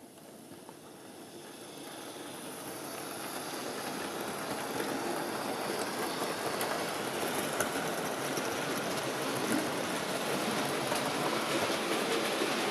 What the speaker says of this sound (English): I'll try one last smooth departure from the station to show you what these locomotives are capable of